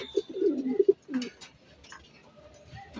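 Dirty checkered pigeons cooing close by in a short burst of soft, rounded coos over the first second, then fading into quiet ambient noise with faint background sounds.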